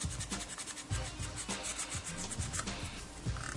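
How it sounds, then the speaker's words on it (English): Wet/dry sandpaper rubbing over putty on a scale model of Desslok's command cruiser, a steady close scratchy scrubbing with repeated back-and-forth strokes and no talk. "I hit that with some sandpaper, some wet dry sand"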